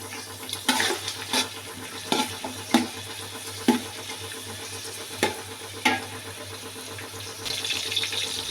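Chopped onion with cinnamon, cardamom and cloves fries in a pan, a steady sizzle under a low hum, broken by periodic scraping stirs and clinks.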